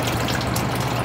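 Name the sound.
water draining into a tank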